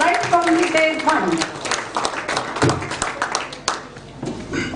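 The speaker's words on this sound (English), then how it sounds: "Let us have a clap for our IMA president" An audience at a medical association conference claps for the IMA president, a scattered, uneven patter of hands that carries under a voice talking through most of the moment.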